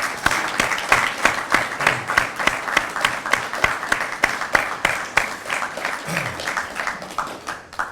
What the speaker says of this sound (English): I'd like to give a round of applause for your guys' families first.